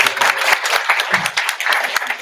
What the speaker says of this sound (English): yeah, you can clap for him.